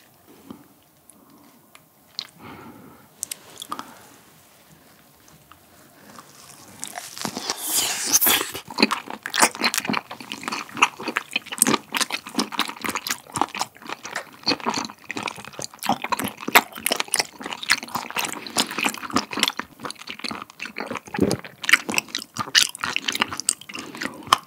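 Steamed bigfin reef squid legs dipped in chojang being chewed close to the mic, with a quiet start and then dense, wet, rubbery chewing and smacking that continues steadily to the end.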